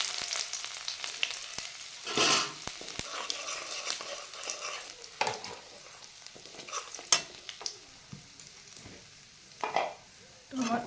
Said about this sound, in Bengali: এই মাছ ভাজার তেলে কালো জিরা ফোড়ন দিয়ে দিলাম।